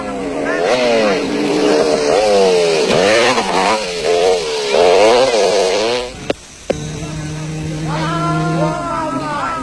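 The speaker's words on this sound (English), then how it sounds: "Brian Bontekoning had moved up into fifth place on the 200 Winston Yamaha" Off-road racing motorcycles from Yamaha, Honda and Kawasaki rev hard at a 1991 desert race in South Africa. The engines climb and drop in repeated loud, close surges, cut out briefly, then return to a steadier drone.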